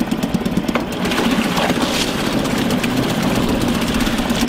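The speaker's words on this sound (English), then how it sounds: "It is idling now at about between 650 and 700 revolutions per minute." A Suzuki 2.5 hp outboard motor idles steadily at about 650 to 700 rpm with a low, even chugging hum, loud and close, with no voices.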